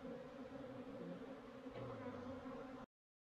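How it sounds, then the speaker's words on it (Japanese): Japanese honeybee swarms pour out of two hive boxes in a garden in Nagano's Ina Valley, making a dense, steady buzzing hum. It stays loud and close throughout, then cuts off abruptly. "この日は昼過ぎに庭に置かれている2つの巣箱からそれぞれ分蜂群が飛び出しました。"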